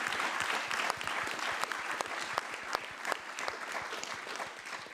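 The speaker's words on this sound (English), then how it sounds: "it is the time to give a round of applause to our three distinguished speakers" Conference audience applauding three speakers, dense steady clapping from a room full of people, moderately distant and continuous, no voices.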